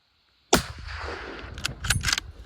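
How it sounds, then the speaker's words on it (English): A sharp gunshot report during a grizzly bear hunt in Alaska, loud and close, followed by a long rumbling echo and a few quieter cracking bursts near the end. "Keep shooting her."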